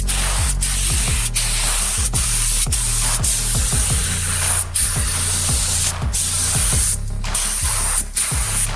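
Spray gun coats the surface of a 1960 American milling machine during restoration: loud, close hissing bursts, each starting with a sharp pop and repeating in a quick, regular rhythm.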